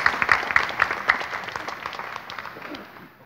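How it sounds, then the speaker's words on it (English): Audience applause at a 2019 press launch for an illuminations event, a steady burst of clapping that is fairly close and slowly fades over a few seconds. "we'll give you another big round of applause"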